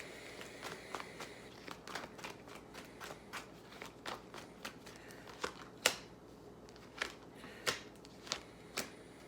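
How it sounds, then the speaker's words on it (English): Tarot cards pulled from a deck, a series of soft papery flicks and snaps spaced irregularly at close range over a faint steady background hiss. "I'm gonna pull 3 more cards."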